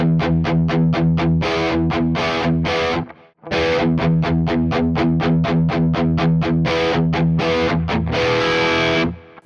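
Distorted pop-punk guitar chugs played through dual amp models on a Quad Cortex, including a dual rectifier, loud rhythmic palm-muted bursts in two phrases with a brief gap between them, no talking.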